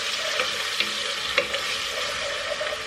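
Grated onion and red pepper flakes frying in a pot with tomato sauce and paste for soup, a steady close sizzle with occasional stirring clinks and scrapes throughout.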